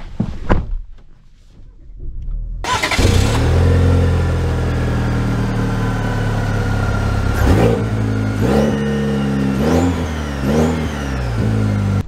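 A 2023 Chevy Colorado Z71 pickup's engine cranks and fires, settles into a steady idle, then revs up and down several times, loud and close from inside the cabin.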